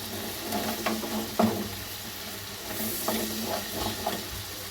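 Butter garlic mixture being stirred in a hot pan for butter garlic chicken, a steady soft sizzle with scattered scraping spatula strokes, close and moderately loud, with no talking.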